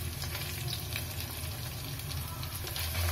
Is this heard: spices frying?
yes